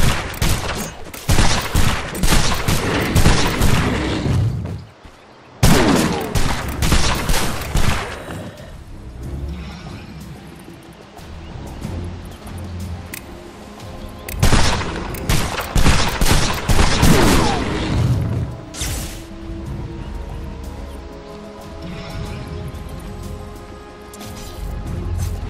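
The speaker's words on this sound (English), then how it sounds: "Dire's middle tower is under attack." Dota 2 match audio with loud bursts of combat effects, crashes and gunfire-like fusillades while a tower is under attack, dense and continuous with brief drops, no talk.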